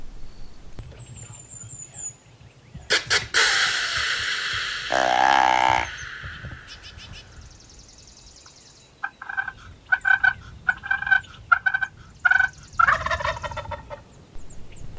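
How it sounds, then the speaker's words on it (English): A wild turkey gobbler gobbles in loud, rattling bursts, then sounds off again in a series of shorter gobbles and calls, fairly close, with quiet outdoor stillness between. "The next morning I did have a hot gobbler coming in"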